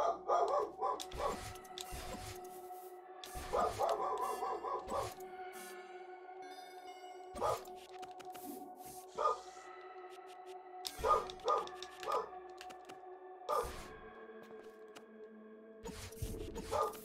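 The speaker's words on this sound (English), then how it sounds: "My dog." A real dog barking in the room, with repeated sharp barks in irregular bursts, some in quick doubles or triples, spread over the whole stretch at moderate distance with quiet gaps between.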